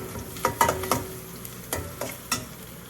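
Crushed garlic and dried red chillies fry in hot oil. A quiet sizzle sits under sharp intermittent spatter pops and stirring clicks, about eight distinct bursts, close by, with no speech.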